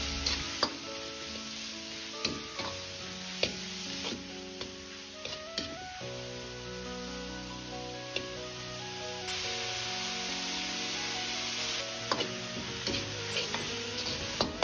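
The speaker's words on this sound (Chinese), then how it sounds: "再放入腌菜翻炒均匀" Pickled greens stir-fried in a hot wok with scallion, garlic and chili give a steady loud sizzle, broken by sharp spatula scrapes and knocks against the metal at irregular intervals, with no talking.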